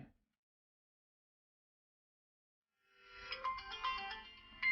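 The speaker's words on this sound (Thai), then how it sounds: "เดี๋ยวผมลองโทรเข้านะครับ โทรเข้าเครื่องที่เราตั้งค่าไว้" An incoming-call ringtone on a D20 smartwatch starts after about three seconds of silence, a faint electronic melody of bright repeating tones that continues to the end.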